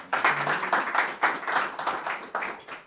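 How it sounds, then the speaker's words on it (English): A small meeting audience gives a brief, light round of clapping for a staff member at a local TV station's annual meeting, a few sparse rhythmic claps close by. "you can give them a little round of applause."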